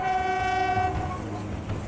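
A Kalka-Shimla Railway mountain train in India sounds a loud sustained horn chord for about a second, then a low rumbling roll of the train continues beneath.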